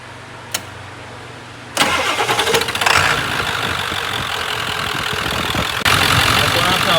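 Ford 7.3 Powerstroke diesel with about 342,000 miles cranking and catching after a sharp click, settling into a loud, rough, clattering idle close by, with a brief surge near the end.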